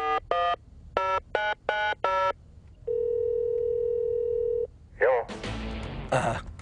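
A telephone being dialed for a call from the South by Southwest Film Festival: a quick run of separate keypad beeps, then a long, steady dial tone, and finally a short burst of line noise as the call connects.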